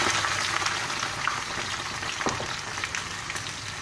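Seven onions frying in oil for Padang-style beef rendang, a steady close crackling sizzle with scattered pops and spits running throughout, no voices.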